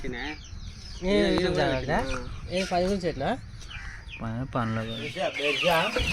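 Fighting roosters raised in a backyard flock cluck and call in short bursts, close by and fairly loud, with voices talking over them.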